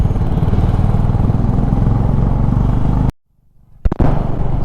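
A Honda Hness CB350 motorcycle engine rumbles loud and close with a steady low throb, cuts out abruptly into near silence, then roars back after a short clatter.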